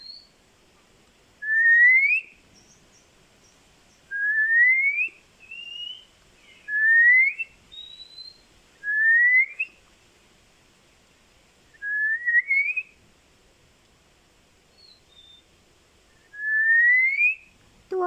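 A person whistles short rising, bird-like phrases imitating a magpie-robin's song, repeated about seven times with pauses in between, clear and close in a quiet space.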